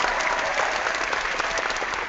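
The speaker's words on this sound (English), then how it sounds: "Can we get some applause for Mr. Z?" A canned applause sound effect plays during a wrestling-themed hangout show: dense, steady crowd clapping and cheering that fills the whole moment at an even level.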